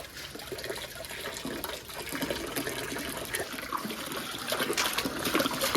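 Water splashing and trickling as a baby is bathed, a continuous soft wash of liquid noise that stays close and fairly quiet, growing slightly louder toward the end.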